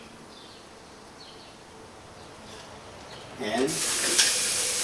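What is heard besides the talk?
eggs thrown into a hot pan to fry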